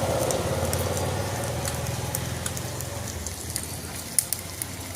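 Gram-flour and yogurt batter fries in a hot pan, a dense steady sizzle and crackle like light rain with a few sharp pops near the end, close and loud with no talking.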